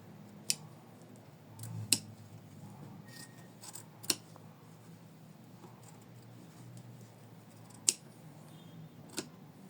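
Small scissors snip at machine embroidery, trimming an in-the-hoop floral tulip heart, in a handful of sharp, isolated clicks spaced a second or two apart over a faint, quiet background.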